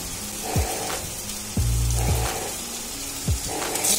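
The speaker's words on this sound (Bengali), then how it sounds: "আর জিরে ফোড়ন দিলাম, দুটো শুকনো লঙ্কা" Cumin seeds and two dried red chilies dropped into hot oil, giving a soft, close sizzle with a few brief spitting bursts, alone with no talk.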